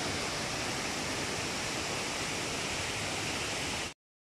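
Clean stream water rushing steadily at Thippitiya in Akurana, a dense, constant close-up flow with no voices, cutting off abruptly near the end.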